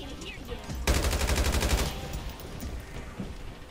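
A submachine gun fires a rapid burst in the battle royale game Farlight 84, about one second of loud, evenly spaced automatic shots. Quieter game sounds follow, with a few fainter pops.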